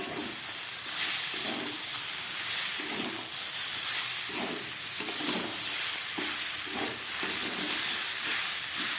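Vegetables and a little Gobindobhog rice are sautéed for khichdi in a pan, giving a constant loud sizzle and hiss with repeated stirring scrapes throughout, heard up close.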